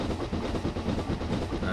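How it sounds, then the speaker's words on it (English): A goods train runs in the Sodor train simulator game, with a steady rumbling roll and faint rhythmic clatter of wagons, moderately loud and continuous throughout. "This will not be a high-speed run because, of course, we are pulling a goods train,"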